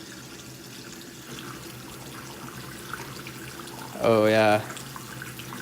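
Hot water running steadily from a household tap fed by a Rheem RETEX-13 tankless electric water heater, a faint continuous hiss under a voice, with a short loud tonal squeal partway through.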